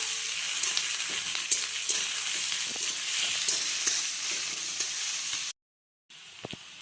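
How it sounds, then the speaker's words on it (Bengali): Chopped onions sizzle steadily in hot oil in a pan after a bay-leaf tempering, with occasional clinks of the stirring utensil. The frying is close and continuous, then drops out briefly before resuming. "পেঁয়াজ দিয়ে ভালোভাবে নাড়াচাড়া করা হচ্ছে"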